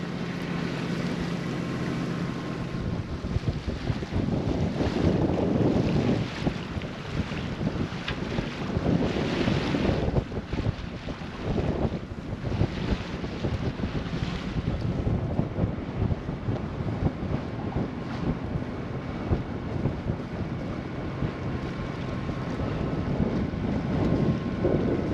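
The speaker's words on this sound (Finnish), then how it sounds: "meillä on 10 metriä sekunnissa tuulta ja se tulee suoraan vastaisesta" Strong headwind of about 10 metres per second roars over a sailboat motoring under a bridge, a loud, constant blast of wind noise hitting the microphone with rushing water underneath and no voices.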